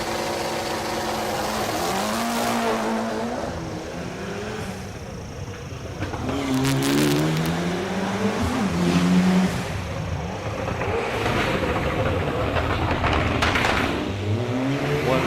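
Racing cars in the SLTT class up to 3,500 cc accelerate hard up a hill climb course at Eliyakanda, engines revving loudly with rising and falling pitch as they pass near and continuously through the stretch, with no talk.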